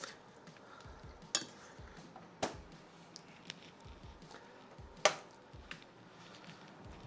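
A pan of spinach, bacon and mushroom pasta cooks quietly, a faint low sizzle with a few sharp utensil clinks against the pan spaced several seconds apart.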